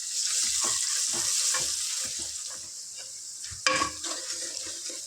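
Ginger garlic paste with turmeric frying in a pan for a mutton masala curry: a steady close sizzle broken by repeated scraping stir strokes, with one louder clatter near the end and no talk.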